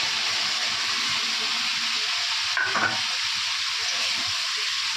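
Steady sizzling hiss of spices frying in a hot pan, continuous and close, with a brief clink partway through.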